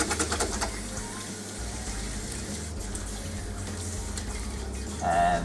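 Hands are rinsed under a running kitchen tap, giving a steady, close splashing hiss of water that continues throughout at moderate volume.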